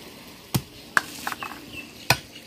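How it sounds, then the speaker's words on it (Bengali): Chicken sautéing in a little oil with water added, heard as a few sharp spoon scrapes and clinks against the pan over a faint low sizzle, with no talking. "তো চিকেনটা আমি খুব অল্প তেলে কষিয়েছি, যার জন্য আমি একটু জল দিয়ে আবার কষিয়ে নিচ্ছি।"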